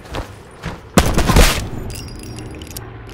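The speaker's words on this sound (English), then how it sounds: "Ron, he's gonna keep shooting." Gunfire in the battle-royale mode Blackout of Black Ops 4: a loud burst of rapid shots erupts about a second in and rattles on for half a second, with scattered lighter reports and faint game sounds trailing after.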